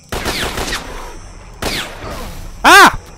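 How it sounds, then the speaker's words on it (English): Gunfire in S.T.A.L.K.E.R. Call of Pripyat in an underground workshop, two quick clusters of sharp rapid shots, then a loud brief pitched whine or yelp near the end. "Gotta shoot it now."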